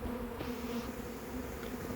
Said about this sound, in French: il y a énormément d'abeilles dehors maintenant